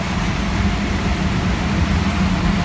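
A train passing at Sileby station gives a steady, broad rumble of wheels and motion that fills the whole stretch at an even, moderately loud level, without changing pace.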